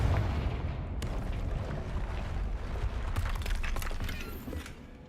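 Magic spell blasts from the Bombarda and Confringo explosion spells in the Hogwarts Legacy video game, a dense rumbling barrage with sharp cracks near the start and around the middle, loud throughout and fading slightly at the end.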